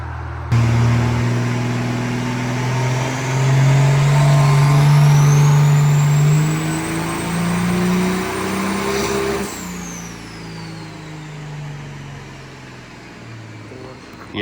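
Cummins diesel burnout truck engine revving hard up to its rev limiter at about 4,000 rpm on full fuel, a loud sustained rising roar with a turbo whistle, then dropping off to a rumbling idle, with a voice heard briefly.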